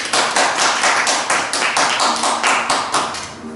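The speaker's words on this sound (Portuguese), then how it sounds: "Vamos aplaudir o Senhor" A church congregation applauds together in a steady, rhythmic clap, a loud sustained burst of many hands that gradually fades toward the end, with no talking over it.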